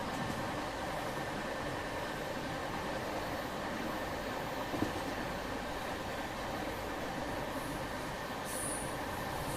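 Rajdhani Express hauled by a double locomotive rolling past as a steady, dense rumble and wheel roar that stays loud and even throughout, with a brief high squeal near the end.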